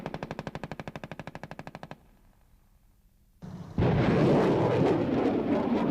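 Rapid machine gun bursts from a Bradley armoured vehicle, a steady run of loud evenly spaced shots, then a brief quiet pause before heavy roaring fire rises, with the 25 mm cannon booming loudly over a dense rumbling wash.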